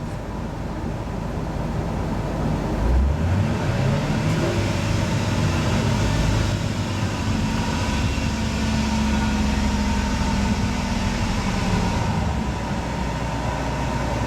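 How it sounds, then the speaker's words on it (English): A car engine idling close by with a steady low drone, then revved once so the pitch climbs and holds higher for several seconds before easing back down. "I'll rev it up"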